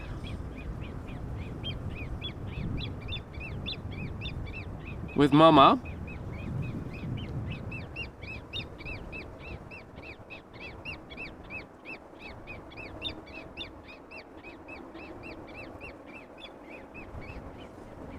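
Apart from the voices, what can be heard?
young grebe chick chirping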